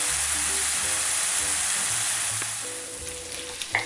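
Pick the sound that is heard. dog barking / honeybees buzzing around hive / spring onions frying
spring onions frying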